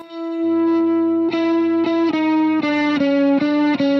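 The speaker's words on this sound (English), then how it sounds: "this is to show you that I really cranked the amp. This is like master all the way up" A cranked Marshall guitar amp with the master volume all the way up, blasting loud, close distorted electric guitar chords that ring and change roughly every half second, with no talking.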